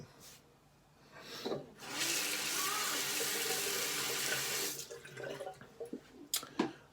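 Tap water runs into a sink while rinsing after a shave: a soft splash builds to a steady gush for about three seconds, then breaks into scattered drips and splashes as the flow stops.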